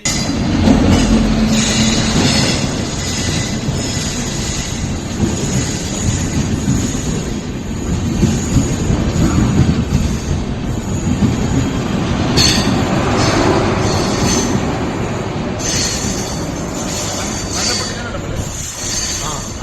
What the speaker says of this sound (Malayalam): കേരളത്തിൽ ആദ്യത്തെ ഡബിൾ ഡക്കർ ട്രെയിൻ ഓടി